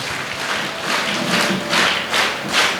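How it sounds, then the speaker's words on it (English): An audience at a school investiture ceremony claps in three distinct bursts, each a short wash of many hands, at moderate loudness in a hall with no talk. "So 3 claps for him, please."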